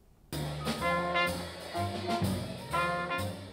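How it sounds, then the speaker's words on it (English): Smooth jazz from a live band, mellow sustained horn-like chords over a steady bass line, warm and close, with no voices. "That's the sound of some smooth jazz at the Young Men's and Young Women's Leadership Academies."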